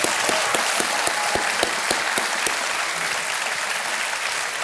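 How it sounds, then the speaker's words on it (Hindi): Studio audience on the Kaun Banega Crorepati quiz show gives sustained, dense applause with sharp individual claps standing out, loud and close, with no talking over it. "एक बार फिर तालियां बज जाएं इनके लिए।"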